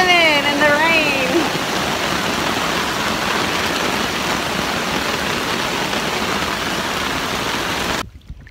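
Steady rain pours down outdoors at a lake, a dense, constant hiss close by that holds for about eight seconds before cutting out; a brief whistling tone drifts through at the start.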